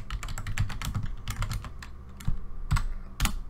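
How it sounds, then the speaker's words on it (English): Computer keyboard keys typed in quick irregular bursts, entering a song title into a search field, close and fairly loud with a few sharper final keystrokes. "you're going to want to type that song in"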